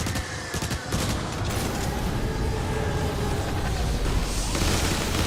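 Shotgun blasts and combat effects from the video game Transformers: War for Cybertron come as a rapid burst of booming shots early on, then a dense, continuous layer of mechanical game noise.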